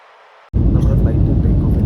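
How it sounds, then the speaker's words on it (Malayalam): A passenger jet takes off with a loud, steady engine roar that starts abruptly after a near-silent half second, heard from a window seat beside the wing in the cabin. "നമ്മുടെ ഫ്ലൈറ്റ് ടേക്ക് ഓഫ് ചെയ്തിരിക്കുകയാണ്."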